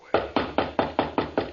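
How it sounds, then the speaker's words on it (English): Someone raps on a door in a vintage radio drama, seven evenly spaced firm knocks in quick succession, close and loud, with no voices. "Just going to let him knock."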